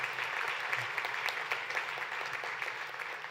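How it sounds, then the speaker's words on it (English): An audience at an international conference opening session applauds a film, a steady, moderately faint wash of clapping from a large hall lasting the whole stretch. "Can we get another round of applause for those who made that movie?"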